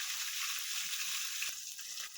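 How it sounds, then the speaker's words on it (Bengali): A tilapia fish sizzles as it fries in oil in a pan, a steady bright hiss close by with a couple of sharp utensil taps and no speech. "এই মাছটাও ভাজা হয়ে যায়"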